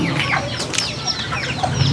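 A flock of chickens just fed mana pack rice, clucking and squawking in overlapping calls, close and continuous over a steady farmyard background.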